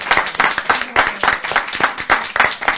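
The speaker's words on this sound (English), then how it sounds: "nice round of applause for that" Close, rhythmic group clapping from an audience at a devotional celebration class, individual hand strikes audible in a steady uneven pulse.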